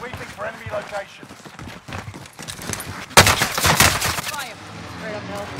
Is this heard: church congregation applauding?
no